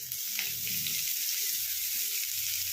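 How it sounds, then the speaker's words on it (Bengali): Dried red chillies and whole spices sizzle in hot oil as a tempering for an eggplant dish, with a steady high hiss and soft stirring clinks underneath, close and continuous. "ফোড়নটা একটু ভেজে নিয়ে"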